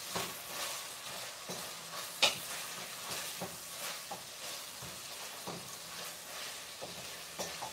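Butter sizzling in a cast iron Dutch oven while preparing shepherd's pie, a steady quiet hiss and crackle with occasional stirring scrapes, heard close with no talking.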